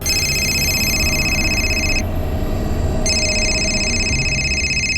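A telephone rings in a crime drama scene, giving loud electronic trilling rings in two bursts with a short pause between them, over steady background noise.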